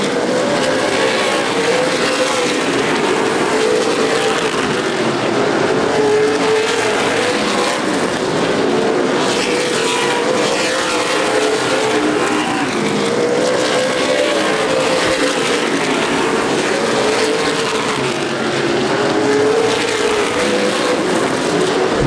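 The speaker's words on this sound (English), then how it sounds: "Five cars really racing hard for second" Stock cars race in a tight pack at Anderson Speedway during the 2011 CRA Super Series Redbud 300. Their engines make a loud, continuous, close roar that swells and dips as the cars circle the track.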